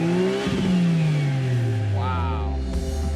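A double overhead cam car engine fitted with a motorcycle exhaust and a turbo revs hard, its pitch sweeping up and then dropping, loud and close throughout the clip.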